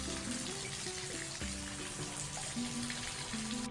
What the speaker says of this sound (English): you can now turn on the faucet, choose the correct temperature, and plug that baby in